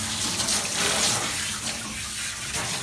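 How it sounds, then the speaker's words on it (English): Water runs steadily from a tap while a dog is bathed and drenched, a continuous close splashing hiss without pauses or talk. "So you can see he gets very drenched with water."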